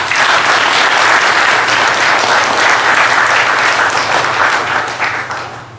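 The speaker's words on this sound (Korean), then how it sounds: "여러분 큰 박수 부탁드립니다" A large audience applauds steadily at a university Buddhist dharma assembly, dense loud clapping filling the whole span before easing off slightly near the end.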